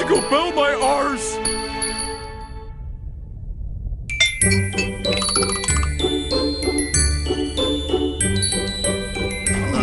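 A magic bell in a cartoon version of the opera The Magic Flute rings out in bright tinkling chimes that repeat and layer over orchestral music, after a brief sung phrase at the start.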